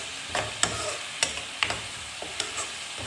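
Spoon stirring green garlic chutney as it fries in oil with lemon juice, with a soft sizzle underneath and a handful of distinct scraping clacks spaced irregularly, close by and with no speech.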